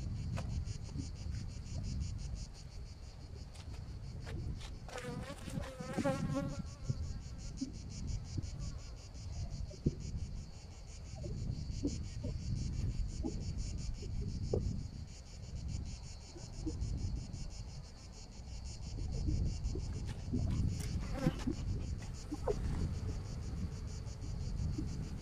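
Honey bees hum and buzz around an opened beehive as brood frames are lifted out, a continuous outdoor drone with a few louder fly-by buzzes and light wind.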